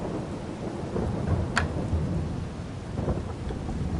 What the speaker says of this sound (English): Nice thunder noises.